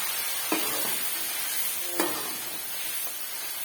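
Whole spices, cinnamon and cumin, dropped into hot oil beside chicken for palak gosht: a steady soft sizzle with two sharper hissing bursts as spices hit the pan, and light stirring, with no talk.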